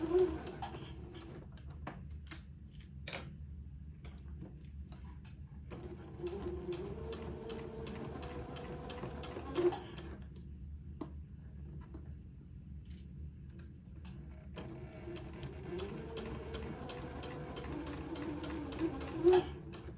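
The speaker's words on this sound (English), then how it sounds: "I'm going to sew this on, taking my pins out as I come to them" A sewing machine stitches a sleeve onto a garment's armhole in steady bursts of rapid mechanical clatter, pausing briefly between runs while pins come out, close and moderately loud with no talk.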